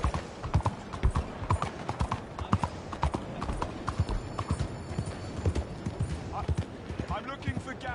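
Horse hooves clip-clopping in Red Dead Redemption 2 while riding, a steady close rhythmic trot of hoofbeats over game ambience.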